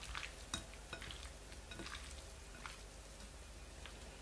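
Shrimp and fish fillet frying with ginger and spring onion as they are stirred, a soft, fairly quiet sizzle with intermittent spatula scrapes and taps against the pan.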